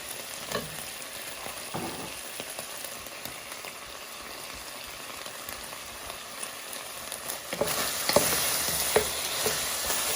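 Beef pieces frying and browning in a hot pan for a beef and black pepper noodle dish, giving a steady close crackling sizzle with occasional stirring scrapes that swell louder near the end.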